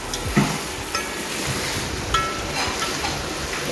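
Home-grown lady finger (okra) fries in a pan over a medium flame, a steady close sizzle broken by occasional scrapes and knocks as the pieces are stirred.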